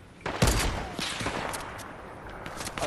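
Gunfire from a Fortnite Battle Royale match, a sharp burst near the start followed by scattered shots and a steady noisy wash of game sound.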